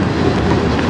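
A train rolls steadily past on the railway, a continuous dense rumble with clattering wheels over the rails, loud and close throughout, with no voices.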